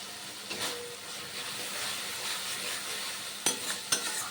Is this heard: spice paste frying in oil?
yes